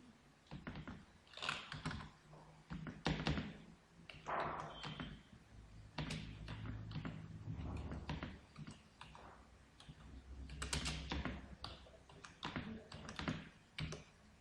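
Quiet clicking of keys on a computer keyboard as text is typed into graphic design software, irregular bursts of taps with short pauses, close and alone.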